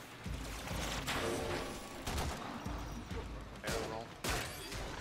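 Gunfire in the online shooter Warframe, several loud bursts of rapid shots separated by brief lulls, heard close up, with a voice talking underneath.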